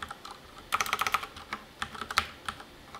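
Quiet typing on a computer keyboard: a quick burst of clustered key clicks, then a few scattered taps, close by with no talking.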